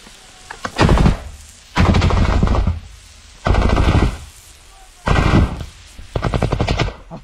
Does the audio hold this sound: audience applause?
no